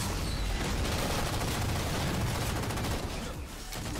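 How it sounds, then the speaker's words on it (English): Rapid automatic gunfire in the shooter game Halo 4, a dense, sustained stream of shots with booming impacts, loud and close, tapering slightly near the end. "I swear I'm shooting that kid"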